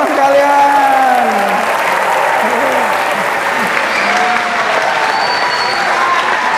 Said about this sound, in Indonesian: Tepuk tangan buat teman kalian.